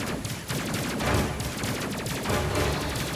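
Rapid volleys of missile fire in the space combat video game Space Crew, a dense, continuous rattle of repeated launches and impacts, loud and busy throughout with no talking.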